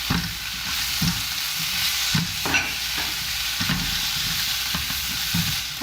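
Eggplant stir-frying in a wok with dried shrimp, salted fish and Vietnamese shrimp paste, a steady loud sizzle broken by repeated scraping stirs of the spatula at a roughly even rhythm, close up with no talking.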